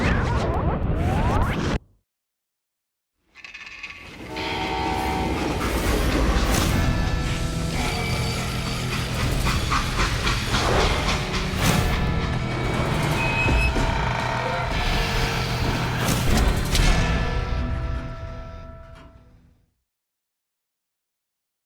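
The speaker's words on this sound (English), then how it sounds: "How'd they stop this train in the first place?" Train moving in the Call of Juarez: Gunslinger video game, a loud dense rumble with whooshing and clattering layers that starts after a brief gap and runs steadily for most of the stretch before cutting out.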